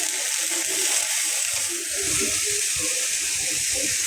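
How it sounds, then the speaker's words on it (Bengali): Water is poured into a cooking pan for cucumber dal, a steady close splashing and hissing stream with no talk over it. "পানি দিয়ে দিলাম"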